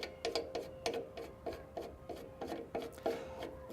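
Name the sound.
winding hand wheel on Allett C24 mower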